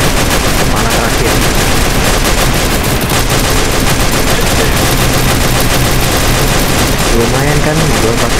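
Rapid gunfire from the player's weapon fighting the Mechadrake dragon boss in a Final Fantasy video game, dense and loud throughout, mixed with game music and effects.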